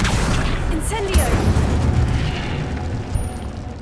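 A fiery Incendio spell blast in the Hogwarts Legacy video game, a loud booming burst with roaring crackle that swells and then holds, accompanied by faint game effects and no clear talk.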